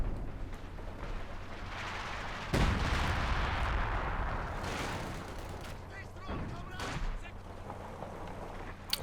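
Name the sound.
howitzer artillery barrage in Company of Heroes 2 video game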